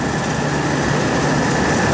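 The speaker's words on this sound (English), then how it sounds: "And then this compressor is running very hot." A refrigeration compressor running very hot on a 1970s Liebert system with heat reclaim, a loud, steady mechanical drone with a low hum, continuous throughout.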